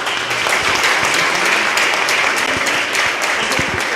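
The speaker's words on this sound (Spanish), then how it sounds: "Un aplauso por el gesto." An audience at a church gathering on ecumenism, mission and human rights applauds, a loud, sustained patter of many hands clapping close by for the full four seconds, with no voices over it.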